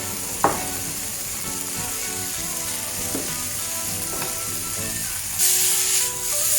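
Onions and mushrooms sauté over medium heat in a pan, with a continuous crackling sizzle broken by a few sharp clicks of a utensil and a louder hissing swell near the end.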